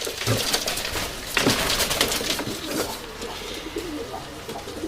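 White Istanbul and Urfa Arab pigeons coo close by in an opened box, low rolling calls mixed with scratchy rustling and fluttering movement.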